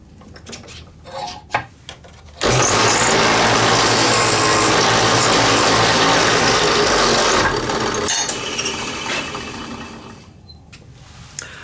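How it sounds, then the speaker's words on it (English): A pen mill faces the surface of a scrap-built pen blank made of wood cast in epoxy, producing a loud, steady metallic grinding and rasping that runs for about six seconds after some light handling clatter and then tapers off. "I'm going to use a pen mill on these, so when I flatten and I face the surface here"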